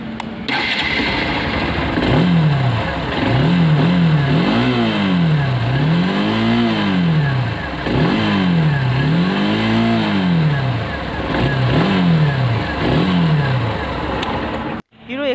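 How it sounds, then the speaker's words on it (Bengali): Hero Xtreme 160R BS6 motorcycle exhaust, loud and close, starting up and then revved repeatedly in rising and falling sweeps for about fifteen seconds before cutting off abruptly. "এক্সট্রিমের এক্সস্টের সাউন্ডটা শুনি।"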